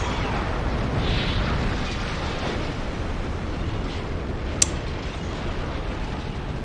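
A warship detonating in a naval video game, a steady heavy rumbling roar with one sharp brief crack partway through, loud and continuous, no talking.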